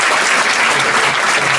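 Comedy club audience applauding hard, a loud, dense and unbroken burst of clapping throughout.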